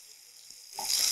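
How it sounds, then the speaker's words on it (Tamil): Cumin tempering and a ground green paste hit hot oil, a quiet moment giving way to a sudden rising hiss of sizzling that swells loud at the end. "ஜீரகம் தாளிச்சுட்டு நம்ம அரைச்சி வச்சுருக்க பேஸ்ட்டை ஆட் பண்ணுறோம்"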